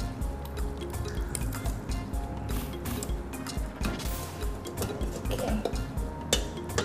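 Liquid pours and drips out of a pot while metal clinks and scrapes against it, close and busy, with a spoon rattling irregularly through the steady trickle.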